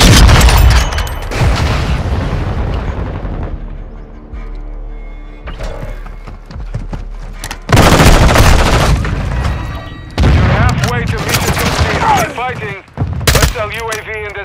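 Grenade blast and bursts of rapid gunfire in Call of Duty: Modern Warfare II, loud booms and crackling volleys erupting in waves with brief lulls, game voice callouts heard between.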